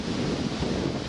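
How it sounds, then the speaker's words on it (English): Steady wind roars across an outdoor microphone while fishing in heavy rain, a constant broadband rumble with no pauses, loud and close throughout. "Pretty windy, as you can probably hear"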